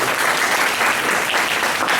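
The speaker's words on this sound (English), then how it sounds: "Big round of applause to him," A classroom audience gives a big round of applause after a student's answer, steady, dense clapping filling the whole moment with no letup.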